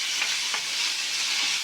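Chopped tomato, onion and radish sauté together in a pan, a close, even hiss of frying with a couple of brief stirring scrapes.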